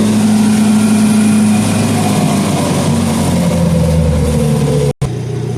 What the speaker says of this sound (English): the first thing you're going to do is idle the engine speed all the way down